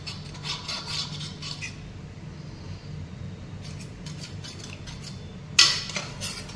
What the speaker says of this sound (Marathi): चमच्याने मी हे तिखटाचं छान मिक्स करून घेते हे तिखट असं